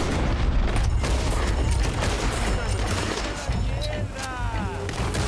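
Heavy gunfire and booming blasts during the escape from Guarma in Red Dead Redemption 2, a dense, continuous roar of shots and rumbling with loud low thuds throughout.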